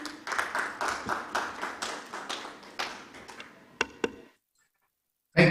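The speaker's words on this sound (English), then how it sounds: "A round of applause for Dr." Summit audience applause for a speaker: a small group's claps in a rhythmic, almost unison pattern, thinning to a few last isolated claps, then silence before a sudden noise at the end.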